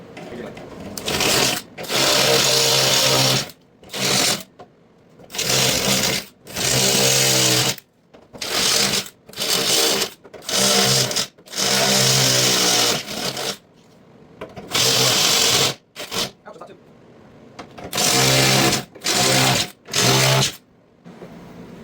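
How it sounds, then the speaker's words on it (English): A power drill with a step bit whines drilling aluminum in repeated short bursts, about a dozen runs separated by brief pauses, loud and close with no talking. "These smaller holes, let's just take our step bit and drill them out."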